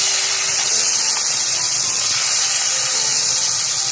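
Bata spice paste sizzling in hot oil in a pan, village-style Bangladeshi cooking: a steady, loud hiss that fills the whole stretch without a break, with no talk.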